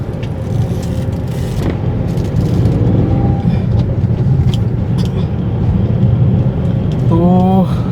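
Cars pass along a busy road in a steady, loud rumble of traffic, with people talking nearby and a brief tonal sound near the end.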